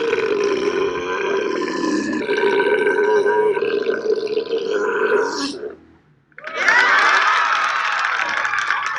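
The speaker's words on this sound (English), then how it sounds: "I'm burping because, listen, I'm burping because Lars Sanko and I just freaking, we shotgun beers" Loud, drawn-out belches from a man who has just shotgunned beers on a sports talk show, one long rumbling burp followed by a brief silence and then another strong burp.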